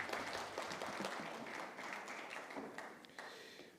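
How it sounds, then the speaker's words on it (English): Applause from an audience at a national research awards ceremony, a dense, steady wash of many clapping hands in a hall that slowly tapers off as the honourees leave the stage; no talking. "Let's give them a round of applause as they leave the stage."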